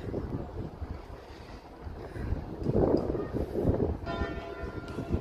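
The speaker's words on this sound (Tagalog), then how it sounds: "tumutunog yung kampana at sambahan natin" A church bell rings behind a small yacht harbour in the Danish port city of Helsingør, faint and distant under strong gusting wind on the microphone.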